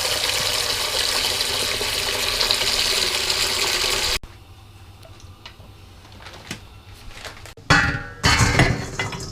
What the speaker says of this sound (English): Now add fresh water to a pan.